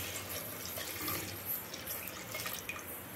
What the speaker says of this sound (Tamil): இந்த ஸ்டேஜில் வந்து நாம் வந்து தண்ணி சேர்த்துக்கலாம்.